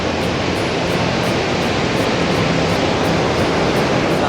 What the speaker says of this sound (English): Another view of the Kaieteur Falls.